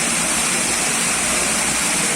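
Steady, loud rush of water gushing from a borewell driven by a five-horsepower pump motor, a continuous broadband roar with no breaks and no voices.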